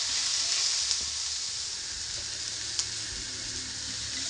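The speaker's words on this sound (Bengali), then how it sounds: "এবার কুচনো রসুনগুলো দিয়ে দিলাম আর তারপর সেটাও একটু নাড়াচাড়া করে নিলাম।" Chopped garlic frying in a small amount of oil in a pan, giving a steady close sizzle with a couple of faint stirring scrapes underneath.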